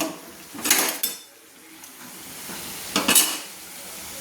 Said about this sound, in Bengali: এইভাবে ছাঁকনির সাহায্যে আমি ছেঁকে নিচ্ছি